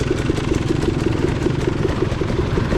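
A dirt bike engine running just after an electric start, a steady close, loud rhythmic putter with mechanical clatter and slight revving at a hare scramble race.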